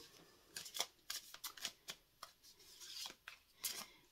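A tarot card deck being shuffled by hand, a quiet run of brisk papery riffles and rubs, a dozen or so short bursts in an uneven rhythm, close and alone without talk.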